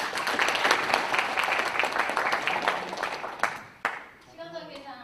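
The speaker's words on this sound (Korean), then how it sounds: "박수 한번 부탁드립니다." Audience applause rings out at a press conference held by a city mayor, a lively burst of clapping for a few seconds that tapers into scattered claps, followed by a voice speaking.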